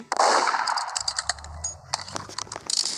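Sharp metallic gunshot and clanging effects from the Roblox game Murder Mystery 2 ring out in a quick irregular cluster, fairly loud with no talking over them.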